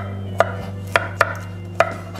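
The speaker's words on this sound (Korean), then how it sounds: "일단 먹기 좋은 크기로 썰어 보도록 하겠습니다" A knife chops fresh broccoli into bite-size pieces on a cutting board, four crisp, separate thuds spaced irregularly over a low steady kitchen hum, close and clear with no talking.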